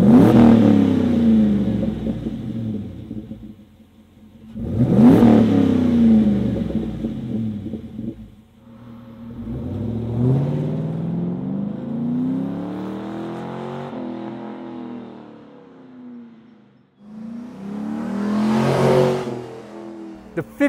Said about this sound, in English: The Super HP2 has a classic street rod tone